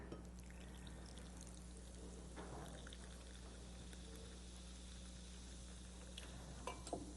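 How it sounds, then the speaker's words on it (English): Cannabis-infused drink topped with club soda and stirred with a bar spoon, faint liquid swirling and trickling heard alone at low volume. "your bar spoon. So we're going to stir this all together."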